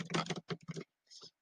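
Fast typing on a computer keyboard: rapid clattering bursts with short pauses between runs of keystrokes, close and clear, with no one talking.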